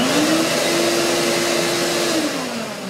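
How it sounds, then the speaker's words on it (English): Vacuum cleaner running on a cheap eBay power inverter, a loud steady motor whine with a faint pitch dip near the end, close and without talk. "Vacuum, no problem."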